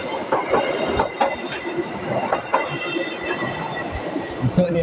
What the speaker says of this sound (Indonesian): Kereta api U80.